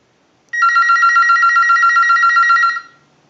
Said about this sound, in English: use our analyzer and send a ring cycle